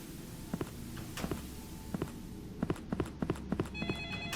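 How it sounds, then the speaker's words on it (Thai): A telephone rings inside The Thirteenth Floor, a horror video game. Sharp, evenly spaced knocking pulses come first, then a steady electronic ringing tone sounds near the end. No one speaks. "มีเสียงโทรศัพท์วะ"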